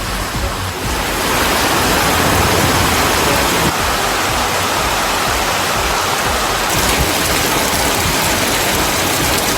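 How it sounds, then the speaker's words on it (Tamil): Heavy evening rain pours over the Kodaikanal hills, a loud, steady wash of rainfall that carries on without a break. "கொடைக்கானல் மலைப்பகுதிகளில் மாலை வேளையில் 1 மணி நேரத்திற்கும் மேலாக இடியுடன் மழை பெய்தது"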